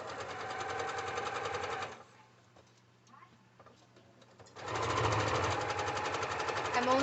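A sewing machine stitches an apron in a steady rapid whir, running loud and close for about two seconds, pausing amid faint handling clicks, then starting again and running steadily to the end.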